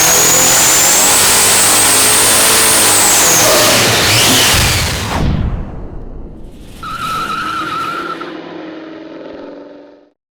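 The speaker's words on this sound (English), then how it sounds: "what does 427 cubic inches of Windsor plus one giant blower equal?" A supercharged 427 cubic inch Windsor Ford V8 with a large Vortech blower, built for a 1968 Mustang, roars loudly at high revs close by, then drops off sharply and settles into a lower, quieter rev before fading out.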